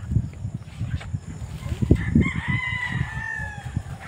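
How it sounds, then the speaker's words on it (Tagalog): Chickens and roosters behind a house in a rural Philippine yard, crowing and clucking at middle distance, with overlapping calls and a drawn-out crow rising over the scratchy flock noise. "ang daming manok doon, no?"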